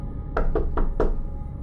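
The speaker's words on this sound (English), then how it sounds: "there was a knock at the front door." Four quick, firm knocks land on a front door in an even rhythm, close and solid, with near silence before and after.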